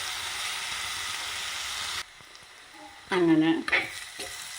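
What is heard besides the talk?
onions and capsicum sautéing in oil for chicken roast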